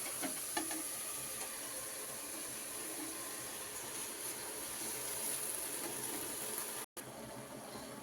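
Greens sautéing with turmeric in a hot pan: a steady, even sizzle and hiss close by, with faint stirring scrapes, and no talking.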